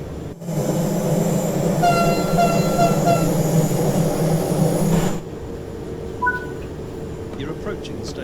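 BR425 electric multiple unit train in Train Sim World 3 on the Bremen–Oldenburg line in Germany, a steady loud rumbling run with tonal motor whine and brief chime-like tones, then quieter rolling noise as it slows.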